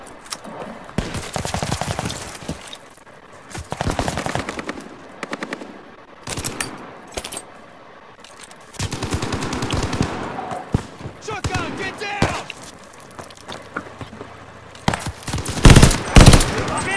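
Call of Duty: Vanguard campaign gunfire: repeated bursts of automatic weapon fire with sharp single shots and explosive cracks, loud and close, coming in uneven clusters separated by short quieter gaps.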